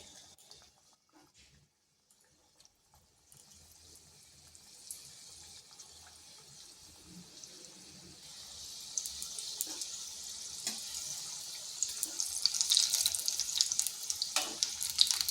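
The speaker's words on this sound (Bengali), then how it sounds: "এইভাবে নেড়ে চেড়ে ভেজে নিতে হবে" Eggplant koftas frying in oil in a wok over slow-to-medium heat, starting as a faint hiss and building to a louder, crackling sizzle with scattered pops.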